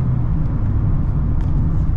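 Low, steady engine rumble from a 2023 Mazda MX-5 Miata GT RF running through its gears in its peak torque band, a continuous close drone with faint road noise and no distinct shift breaks.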